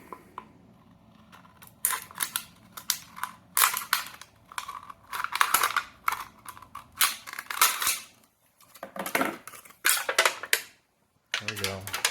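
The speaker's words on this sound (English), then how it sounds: "You can take some scissors and cut it in half." Sharp snipping and crunching bursts, several in quick succession with short pauses, as scissors cut through thin aluminum tubing up close.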